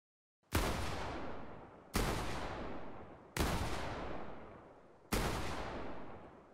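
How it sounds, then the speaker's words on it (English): Gunshots ring out in Fortnite from far away: four separate booming reports, evenly spaced about one and a half seconds apart, each trailing off in a long echoing decay. "the weapon being fired much farther away in this particular clip"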